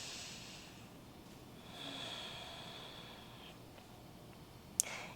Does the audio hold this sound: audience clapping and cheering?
no